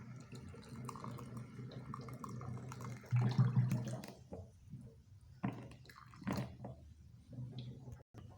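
Water is poured into a glass over ground bidara leaves to brew them. It makes a soft, steady trickle close by with a few splashy bursts partway through and no talk.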